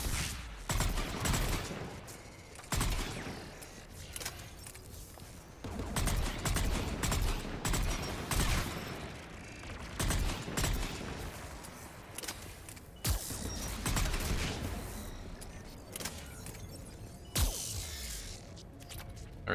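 Video game gunfire in Mass Effect 3, repeated bursts of shots and rattling fusillades at irregular intervals, loud and sharp against a quieter mechanical hum.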